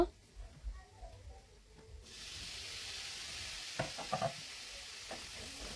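Food dropped into a hot pan for frying, starting quiet with faint knocks, then a sudden steady sizzle that carries on with a few stirring clatters.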